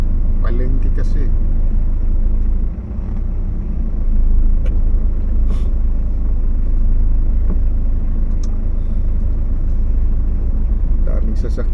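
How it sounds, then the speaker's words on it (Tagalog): Congested market street with many passing vehicles and large trucks, a constant low rumble of engines nearby, brief dips and swells as traffic moves, voices talking throughout. "Daming sasakyan dumadaan, madaming namimili, malalaking truck kasi wala na yung truck ban, kaya masikip."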